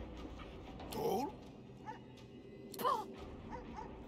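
Dog barking in the fantasy role-playing game Divinity Original Sin II, two short yapping bursts spaced about two seconds apart over a low game soundscape, moderately close.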